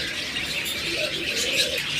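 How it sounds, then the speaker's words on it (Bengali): Diamond doves call inside a bird shop among other caged birds. Soft, low coos rise over a dense background of chirping and twittering from many birds nearby. "এরপর দেখুন চমৎকার রয়েছে ডায়মন্ড ডাব"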